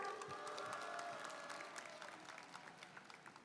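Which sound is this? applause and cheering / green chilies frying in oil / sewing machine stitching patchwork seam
applause and cheering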